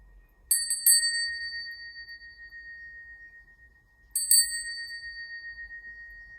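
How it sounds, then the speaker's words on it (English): Two sets of quick strikes on a small high-pitched bell, each leaving a pure, sustained ring that gradually fades in a quiet room. "This is a beautiful high frequency noise and bell."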